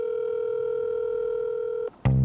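A steady telephone dial tone rings out alone as a call is placed from a car, then cuts off briefly and gives way to a louder tone burst at the end.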